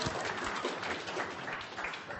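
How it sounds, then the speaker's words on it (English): Steady audience clapping fills a workshop room, dense and continuous at moderate level with no voices over it. "Now come on, that's worth a proper clap."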